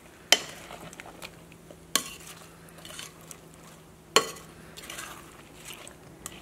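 Fruit salad of mango pieces and dry fruits being stirred and mixed in a bowl, with three sharp utensil clinks against the dish and soft scraping between them, quiet and close.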